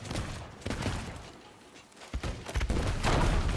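Rapid bursts of gunfire and explosive booms from the video game Sea of Thieves crackle through a dense, noisy mix, with brief pauses between volleys.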